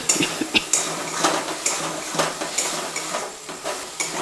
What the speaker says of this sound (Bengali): এরপরে দিয়ে দিচ্ছি পেঁয়াজ বাটা।